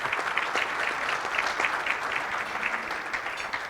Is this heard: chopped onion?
no